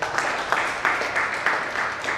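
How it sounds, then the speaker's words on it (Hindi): Listeners at a Hindi comic poetry gathering (kavi sammelan) applaud a tribute to the farmer with steady, full hand clapping carrying light rhythmic pulses throughout, heard alone without speech. "उस किसान के लिए एक बार जोरदार तालियां बजाइए"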